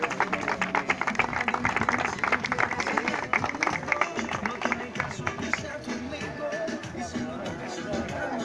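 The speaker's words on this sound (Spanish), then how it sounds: "Un fuerte aplauso, por favor." Crowd applause for the women's champions at a municipal padel tournament final, dense steady clapping lasting several seconds, with chatter and a voice over a speaker mixed in.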